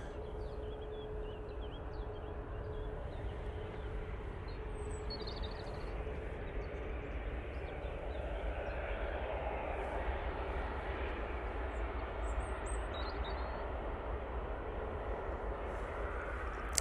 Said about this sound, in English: Emirates now crossing.